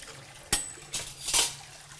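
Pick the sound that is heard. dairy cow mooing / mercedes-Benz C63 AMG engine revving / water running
water running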